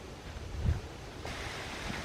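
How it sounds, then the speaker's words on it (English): River water roars over rocks below a North Carolina overlook, heard as a faint, distant, steady wash mixed with light wind noise. "you can sort of hear the roar of the water over the rocks"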